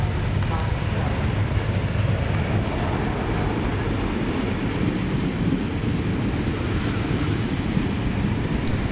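A train arriving at a New South Wales platform, heard as a loud, steady broadband roar and rumble that holds at an even level throughout, with no clear voices over it.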